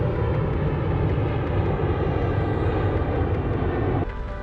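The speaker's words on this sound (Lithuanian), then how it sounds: "O dar lėktuvas kyla." A fixed-wing airplane taking off, its jet engine producing a loud, steady roar that cuts off sharply near the end.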